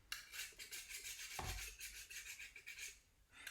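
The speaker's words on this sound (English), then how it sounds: "And my tools, I use like a scraper to clean off with." A scraper scrapes plaster off a surface in close, steady rasping strokes, one brief low knock partway through, no voices.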